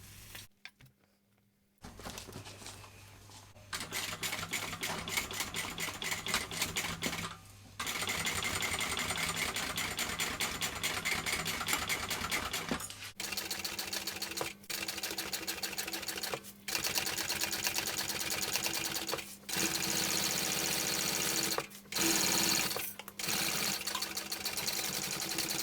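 A sewing machine stitches a second row along an Isabella bag, running in long steady bursts of rapid mechanical clatter separated by short pauses, after a near-silent start.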